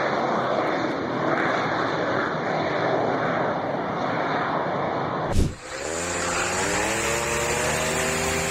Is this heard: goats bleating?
no